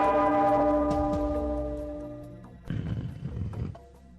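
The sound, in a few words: bell being rung in a cartoon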